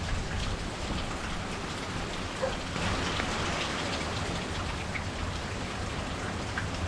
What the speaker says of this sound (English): I don't think it rained as much as this.